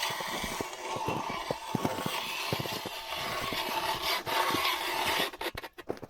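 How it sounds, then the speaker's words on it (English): A hand ice auger grinds into lake ice with repeated rasping, scraping strokes in a steady rhythm, close and fairly loud. "It's 2 days later, and Lisa wants to try drilling a hole."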